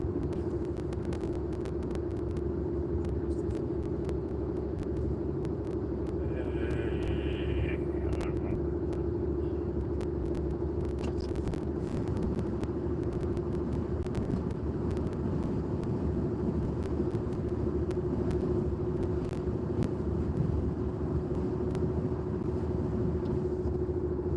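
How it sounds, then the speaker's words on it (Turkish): Heavy road traffic heard from inside a moving car in the rain forms a constant low rumble and road roar throughout, with faint clicks and a brief higher tone, no talk over it. "Arkadaşlar trafik biraz kalabalık."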